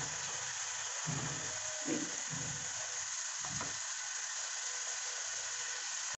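Paya soup ingredients fry over a high flame until golden brown, a steady hissing sizzle broken by a few soft stirring scrapes in the pan, with no talking.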